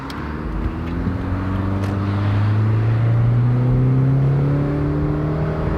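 An SUV with a CVT transmission accelerates, its engine rising into a smooth, steadily climbing drone with no gear-shift breaks, loud and close from the cabin with light road noise underneath.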